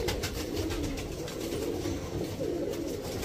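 Golden pigeons coo in soft, low, repeated throaty murmurs, close by and continuous at a pigeon farm, with no voices.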